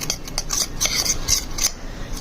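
A metal spoon stirs butter into a thick paste in a small bowl, giving quick, close scraping and clinking strokes in an uneven rhythm without a break.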